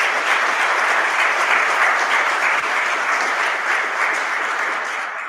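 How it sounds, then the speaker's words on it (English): Steady audience applause at a 2021 National Honor Society induction ceremony, a dense, even wash of many hands clapping for the inductees, loud and continuous for about five seconds with no talk over it. "Can we give them all a round of applause?"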